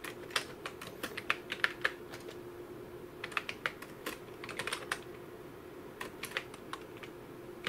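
Someone types a short program on a computer keyboard for an industrial PLC, producing quick irregular bursts of crisp key clicks with brief pauses, close and fairly quiet, with no talking.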